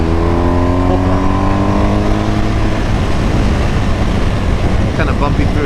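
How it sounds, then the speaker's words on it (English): A car engine goes to full throttle on a track while trail braking through corners, a loud continuous drone with rising harmonics over the first seconds, then a rough, busy roar; no speech. "Trail off, crack open throttle, back on throttle. Full throttle."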